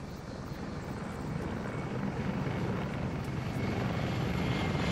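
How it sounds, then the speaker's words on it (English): Helicopter rotor and engine drone in ARMA 3, a steady broadband whir with heavy low thumping that holds at a fairly loud, constant level throughout, with no talk over it. "Helicopter. I hear it."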